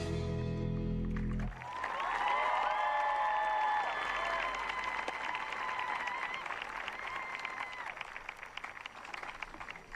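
An audience at a high school graduation ceremony claps after the class's song. The applause swells after a brief musical ending and holds loud and sustained, with whoops and cheering voices mixed in.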